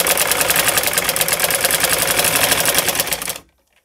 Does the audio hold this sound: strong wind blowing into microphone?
no